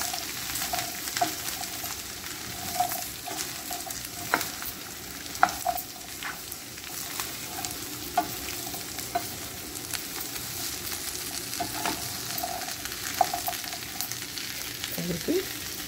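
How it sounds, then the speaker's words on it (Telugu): Papaya pieces being stirred in an iron pan for a Telugu papaya curry, with a steady low sizzle and scattered clinks and scrapes of a spoon against the metal, close and moderately loud. "ఇప్పుడైతే మనం ఇవన్నీ ముక్కలన్నీ కలిపేసుకుందాం."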